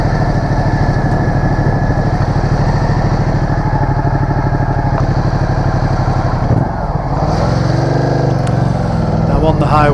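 A 2015 Ducati Multistrada DVT motorcycle engine drones steadily and loudly during a ride, a throbbing continuous note that dips briefly then rises again as the rider changes speed, close to the microphone.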